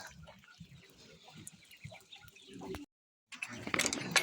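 Chickens cluck softly in short, scattered bursts among ducks in a farmyard, with a brief pause before louder, busier farmyard noises return.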